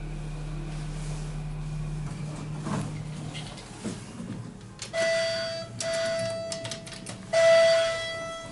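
Chime of a hydraulic elevator at the UNIQLO Fifth Avenue flagship store in New York, sounding three clear sustained electronic tones spaced a second or two apart after a stretch of quiet hum.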